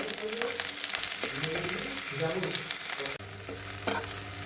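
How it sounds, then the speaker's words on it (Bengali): Pumpkin pieces fry in a little oil with a steady, close sizzle. Clattering stirring and handling noises run over it, and the texture shifts partway through, as if the pan is covered or moved. "এখানে আমি এগুলো হালকা তেলে অল্প অল্প করে আমি সব ভেজে নেব"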